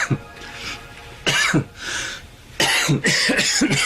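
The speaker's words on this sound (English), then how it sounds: "It's an unrepressible cough." A series of harsh, throaty coughs in bursts, some single and some in quick clusters, close and loud with short pauses between.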